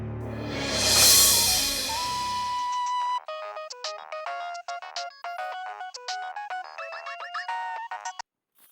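A phone plays a melodic electronic ringtone, a rapid series of bright tones that continues for several seconds alone after a louder burst of music ends.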